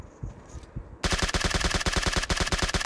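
A sustained, evenly paced string of rapid gunshots in a battle royale shooter, starting abruptly after a quieter stretch with a few distant pops, close and loud.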